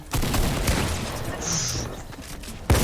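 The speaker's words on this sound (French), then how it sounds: "tirez une balle sur un de vos voisins" Gunfire in the Fortnite video game, heard as a few sharp game-audio bangs and impacts over busy background game noise, with a loud crack near the end.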